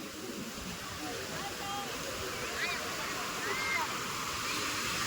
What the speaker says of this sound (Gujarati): જો કેટલા જોરદાર મોજા આવે છે